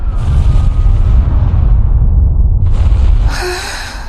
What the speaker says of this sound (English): Sounds like screaming. And cannon fire.